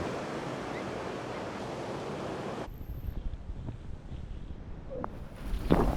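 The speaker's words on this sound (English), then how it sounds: "as I hoped, the waves are much bigger this time." Big ocean waves break at a Bali surf spot, a steady broadband roar of surf with wind buffeting the microphone and no voices.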